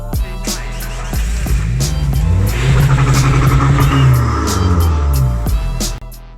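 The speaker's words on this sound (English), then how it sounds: "Watch me car start." A car engine at close range cranks over and catches, then revs up loudly and repeatedly with a rough, gurgling note from water in the exhaust, and settles back before cutting off near the end.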